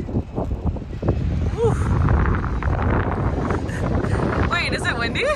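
Gusty wind buffets the microphone on a cruise ship deck near Victoria, Canada, as a steady rumbling roar with brief voices and exclamations mixed in.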